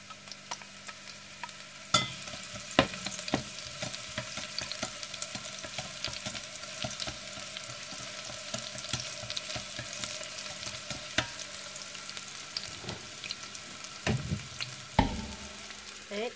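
Shallot sizzles steadily in a hot pan while a utensil stirs and scrapes it, with occasional sharp clinks and a louder clatter near the end.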